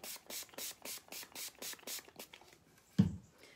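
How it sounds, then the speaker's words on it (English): Dixie Belle Easy Peasy spray wax hisses out of a trigger bottle in about nine short, evenly spaced bursts, close and soft, followed by a single thump. "spray it on"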